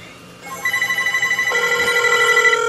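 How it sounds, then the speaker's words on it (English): A Sony cordless phone mounted on a wall rings with a fast pulsing electronic trill that builds and then adds a second higher tone, close and clear, heard alone. "You can hear the Sony cordless phone on the wall."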